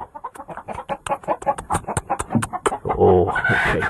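A hen clucking in a rapid, irregular series of close, loud clucks, ending in a rising, more sustained squawk.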